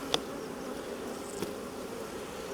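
Honey bees hum around an open hive, many flying bees forming a steady, close drone with a couple of sharper passes as individuals zip by.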